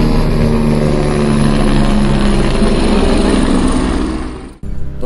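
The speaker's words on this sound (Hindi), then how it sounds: "ये जा रहा हेलीकॉप्टर।" A helicopter near Lincholi on the Kedarnath trek makes a steady loud rotor-engine drone close by, holding level before cutting out abruptly near the end.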